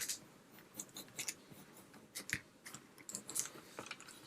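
Scissors trimming a Christmas decoration hung over a door, several quick close snips and crunchy cuts in an irregular rhythm, fairly quiet with no talking.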